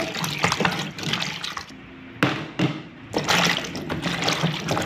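Tap water runs and splashes while okra pieces are rinsed clean in a home kitchen for a balo fish dish, a steady broadband rush with a couple of brief pauses in the flow.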